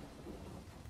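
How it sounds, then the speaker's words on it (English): Rain and thunder from a weather card in the Gwent card game within The Witcher 3: a brief, dense wash of steady rainfall with a low rumbling underneath, heard alone without talk. "I'm gonna play this rain here."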